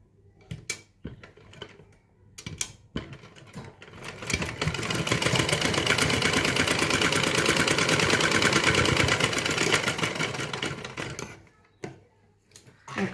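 A sewing machine runs steadily for several seconds while stitching a blouse lining, a fast even mechanical chatter that starts and stops with quieter clicks before and after.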